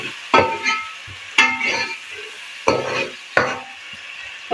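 Onion and tomato sizzle in a pan while a spoon stirs them in four sharp scraping strokes, each followed by a softer frying hiss, close and fairly loud.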